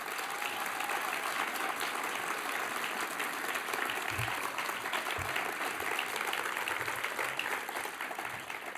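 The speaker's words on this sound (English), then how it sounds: "it'd be nice to give him a great round of applause." An audience at a ballet company's 2019/20 season launch event applauds to welcome Carlos Acosta, a full, sustained roar of clapping from a large crowd at steady loudness throughout.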